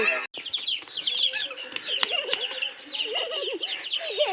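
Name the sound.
black chicken clucking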